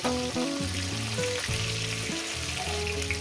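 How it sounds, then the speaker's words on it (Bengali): Rohu fish heads fry in hot oil with a steady, close sizzle that runs for a few seconds beneath melodic background music. "খুব সুন্দর করে মাছের মাথাগুলো আমি ভেজে নেব।"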